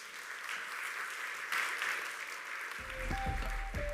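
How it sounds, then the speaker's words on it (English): Conference audience applauding a panelist being welcomed onstage at a React Native event, steady clapping throughout that swells near the end while a low hum and a brief tone cut in. "Please give him a big round of applause."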